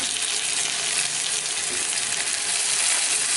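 Cubed potatoes sizzle and fry in hot masala for aloo mogray sabzi, a steady, close, dense crackle that runs unbroken throughout with no voices.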